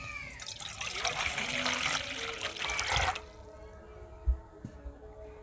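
Water is poured into a pan or bowl while making shahi chapri, a splashing, gurgling stream for about three seconds, then quieter trickles and small knocks, fairly close and soft.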